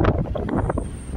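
Strong wind buffeting the microphone in loud, uneven gusts, a rough continuous roar outdoors in Macau.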